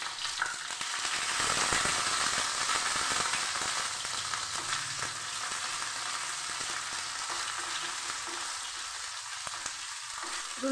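Chopped garlic with green and dried red chilies and nigella seeds frying in hot oil, a dense continuous crackling sizzle that swells early then settles, close and steady with no voices.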